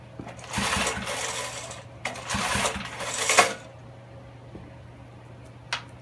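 Two long pull-cord yanks on a Snapper 5HP Briggs & Stratton engine with an ignition fault, each a raspy whirring rattle of the recoil starter that dies away without the engine firing, close and loud, then near silence.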